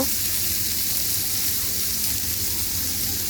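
Potatoes and tomatoes drop into a pan of hot oil for a spiced potato curry, sizzling loudly with a dense, steady frying hiss throughout.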